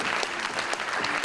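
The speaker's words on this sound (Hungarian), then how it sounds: "Nagy taps, nagy ováció Erikának" Applause and an ovation for Erika at a charity fashion show, a dense steady patter of many hands clapping at close range with no voices above it.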